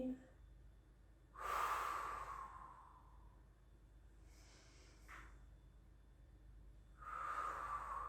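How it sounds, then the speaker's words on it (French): During a beginner Pilates exercise, two close, breathy exhales sound about five seconds apart, separated by near silence. "On expire."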